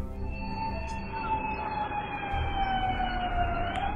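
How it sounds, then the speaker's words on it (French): Emergency sirens wail after a nighttime drone-attack fire in Russia, a sustained, slowly gliding tone sounding from a distance over a low rumbling background, with no speech. "Le son très notable des sirènes peut également être entendu en arrière-plan"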